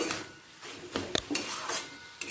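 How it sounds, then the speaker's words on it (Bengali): A spoon scrapes and clinks against a pan as radish curry with sugar is stirred, with several short metallic taps and scrapes over a faint background hiss. "মূলোর সাথে একবার ভালো করে মিশিয়ে নিচ্ছি"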